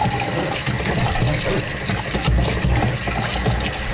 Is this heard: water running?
yes